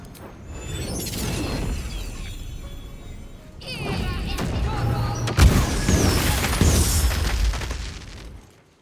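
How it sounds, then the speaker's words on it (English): Explosions in the video game Baldur's Gate 3, loud booming blasts with crashing debris and rumbling mechanisms, one burst early, then a heavier volley with a sharp peak midway and ringing tails as it fades. "Explosions!"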